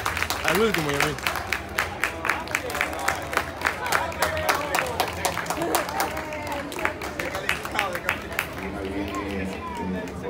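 Spectators at the Copa Regatas Lima athletics meet in Lima, Peru clap for the master athletes. Claps are sharp and distinct, some close and loud and others spread through the crowd, while a voice talks over them.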